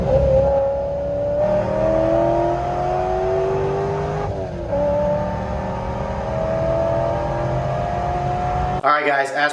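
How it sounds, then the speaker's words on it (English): A supercharged salvage C5 Corvette Z06 pulling hard in third gear, the engine note and supercharger whine rising steadily, broken by one quick shift, loud and close from inside the car before cutting off. "Probably let's do a little third gear pull."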